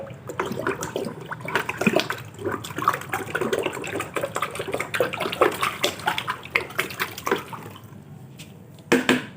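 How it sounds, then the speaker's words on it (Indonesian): Water swishes and sloshes steadily as MKP fertilizer is stirred into 5 liters of water for tomato feeding, with irregular splashy strokes continuing throughout, close and moderately loud. "Nah, ini sudah saya larutkan semuanya,"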